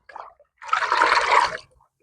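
Fermented coconut cake water poured onto terrace garden plants, a short splash followed by a steady gush of liquid lasting about a second, close and clear, no talking.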